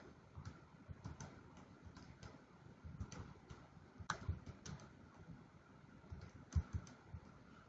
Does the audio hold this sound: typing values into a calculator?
yes